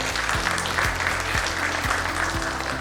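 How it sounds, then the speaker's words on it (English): An audience applauds to welcome the next speaker at a brand communities panel event, with sustained, even clapping throughout. "A huge round of applause for Ms. Naiyya Saggi."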